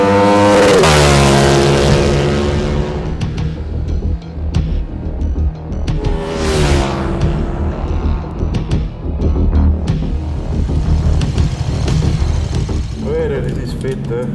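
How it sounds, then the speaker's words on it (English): A KTM 1390 Super Duke R street motorcycle revs hard on a morning test ride, its engine pitch sweeping up and down through repeated throttle blips, loud and close and continuous, with some talk mixed in. "As you can see, Hannes is out this morning testing some of those features"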